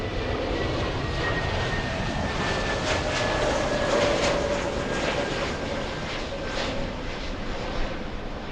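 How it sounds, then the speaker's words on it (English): An Asiana airliner powers up its engines for takeoff at LAX, a broad, steady jet roar that holds at a constant loud level throughout with a faint whine running through it. No one speaks. "Asiana moving, and I think it's powering up."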